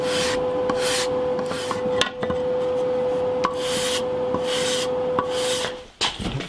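Sanding the side of a wooden guitar neck during a scratch guitar build: a series of rhythmic rasping strokes, close and distinct, over a steady background hum.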